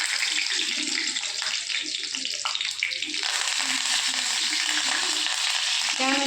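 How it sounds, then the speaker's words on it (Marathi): Curry leaves sizzle and crackle in hot oil for brinjal bhaji, a steady close frying hiss with sputtering pops, loud throughout and with no talking. "सर्वप्रथम मी तेलामध्ये कढीपत्त्याची पानं टाकून घेते."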